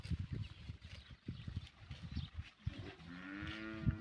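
Cows running about on grass with low thudding, rustling bursts, then a loud drawn-out moo rising near the end.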